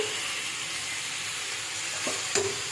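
Chopped tomatoes for a Bengali-style chutney sizzling in a hot pan, a steady hiss with a couple of brief stirring knocks near the end and no voices.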